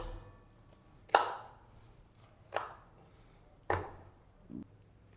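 A knife chops through chicken pieces for a broast recipe in a kitchen, giving four separate sharp cutting strokes about a second apart against a quiet background.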